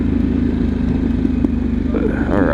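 A 2023 Harley-Davidson Pan America motorcycle ridden slowly through curves at night, its engine giving a steady close throb with a rider's voice heard over it.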